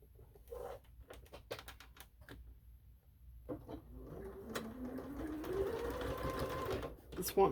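A sewing machine stitches a seam on a table runner, first as sparse clicks and then as a steady, rising whir of stitching, with faint speech in places.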